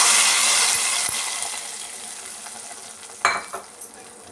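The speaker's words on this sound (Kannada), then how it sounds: "ಒಗ್ಗರಣೆನ ಪಾತ್ರೆಗೆ ಸೇರಿಸ್ಕೊತಾ ಇದ್ದೀನಿ" Hot tempering poured into a pot of radish sambar, a strong sizzle that fades over a few seconds, then a few sharp metallic clinks from utensils near the end.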